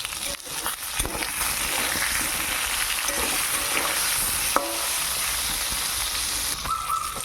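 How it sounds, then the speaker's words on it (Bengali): Pointed gourd pieces frying with turmeric in a pan give a steady, close sizzle that runs the whole time, with a few scraping stirs and brief clinks along the way. "এবার আমি একটু হলুদ দেবো, লবণটা দেবো না, কিন্তু হলুদটা দিয়ে ভাজতে থাকবো।"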